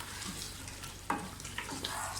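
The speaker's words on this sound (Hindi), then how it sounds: "आलूओं को भी साथ ही भूनें क्योंकि बहुत ही मज़ेदार आलू गोश्त बनता है ये।" Potatoes and mutton for aloo gosht fry in a pan with a steady close sizzle, broken by a few scraping stirs of a spoon, with no talking.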